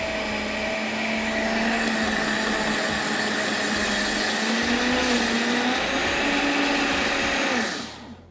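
A loud blender whirs continuously, grinding ingredients for date rolls, its motor pitch wavering slightly as it grinds, then spins down and stops at the end.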